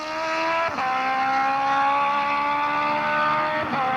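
Suzuki GSX-R 1100 drag bike doing a burnout on a drag strip, its engine screaming at steady high revs with the rear tyre spinning, a loud sustained roar broken by two short gear-like blips.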